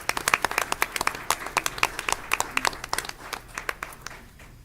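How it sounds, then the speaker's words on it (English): An audience at a school board meeting claps together in a steady, lively round of applause with sharp overlapping claps, tapering off toward the end. "Can we give them another round of applause?"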